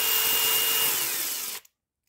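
A cordless impact driver fitted with a Fruholt 4-in-1 rotatable impact bit extension whirs loudly and steadily up close for about a second and a half, then cuts off abruptly into silence.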